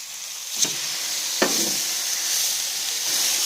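Steaks sizzle on a smoking hot, preheated grill sprinkled with garlic, giving a steady bright hiss with a couple of soft knocks as the meat is laid down, close and continuous.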